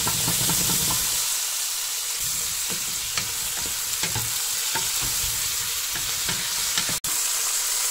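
Large chunks of peppers, onion, potato, tomato and carrots fry in a pot for a grandmother-style lentil and chorizo stew, giving a loud, constant sizzle and hiss with scattered stirring knocks and scrapes up close, and no talk over it.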